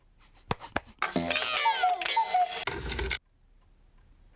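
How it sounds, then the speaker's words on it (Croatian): A cuckoo clock in a children's cartoon gives a few sharp, quick ticks, then a louder tonal stretch with sliding pitches fills the middle before the sound drops to near silence. "Sat, kukavica. Više ne pokazuje vrijeme."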